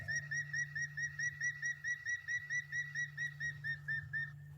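Spotted thick-knee calling at night, a rapid run of repeated whistled notes in a steady rhythmic series, fairly clear and alone over a low constant background hum, slightly deeper than a water thick-knee.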